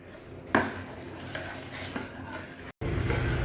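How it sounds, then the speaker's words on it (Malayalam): Payasam is stirred in a pot, a continuous wet scraping and swishing of a spoon against the pot with a sharp knock near the start and a brief cut near the end; no voices. "നന്നായി ഇളക്കി യോജിപ്പിക്കുക."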